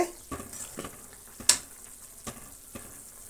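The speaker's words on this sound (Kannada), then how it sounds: "ಇನ್ನು ಬೇಯಬೇಕು ಈರುಳ್ಳಿ ಒಂದು ಏಳೆಂಟು ನಿಮಿಷ ಚೆನ್ನಾಗಿ ಬೆಂದ್ರೇ ಚೆನ್ನಾಗಿರೋದು" Onions fry in a pan with a soft sizzling hiss, broken by occasional scrapes and taps of a spoon against the pan, fairly quiet and close with no talking.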